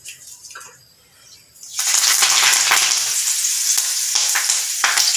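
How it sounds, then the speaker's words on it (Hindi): Curry leaves drop into hot oil and burst into a loud, steady sizzle for several seconds after a quieter opening with faint kitchen noise. "देखो फ्रेंड्स, हमारा ऑयल गर्म हो चुका है। अब हम उसमें कड़ी पत्ता डालेंगे"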